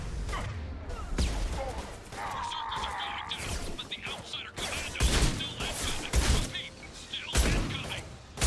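Gunshots in the shooter game Mass Effect 2 hit in repeated heavy bursts and thuds over a busy combat din, with someone talking throughout.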